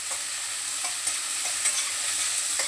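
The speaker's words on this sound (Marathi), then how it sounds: "थोडंसं परतून घेते." Onion and curry leaves sautéing in oil in a pan, a fairly quiet, even hiss of frying with a few faint stirring taps, no voices.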